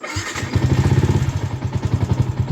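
A Yamaha Sniper 150 MXI motorcycle engine starts up and settles into a steady, throbbing idle, close by, with no talking.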